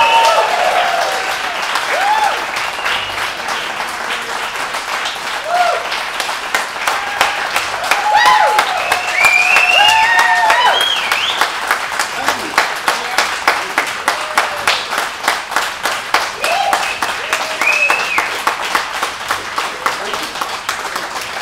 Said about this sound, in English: Please give a big round of applause for Morris McCracken Jr.